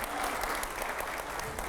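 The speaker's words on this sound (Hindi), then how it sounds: "पहले तो जोरदार तालियां हो जाए रैपिड फायर के लिए" Studio audience applause for a rapid-fire round on a Hindi news debate show, a brief, steady burst of many people clapping at moderate level.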